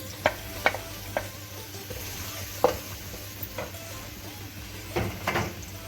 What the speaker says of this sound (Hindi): इसी ऑयल में मैं ये लहसुन को ऐड करूँगी।